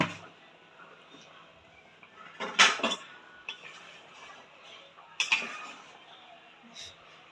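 A lid goes onto a pot of simmering soybean mutha curry with two short metallic clatters a few seconds apart. Quiet kitchen background surrounds the clatters.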